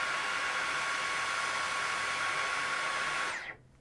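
A Dyson Gen5Detect cordless vacuum runs on medium with a steady, loud whooshing airflow hiss and a faint high whine, then cuts off and spins down quickly near the end.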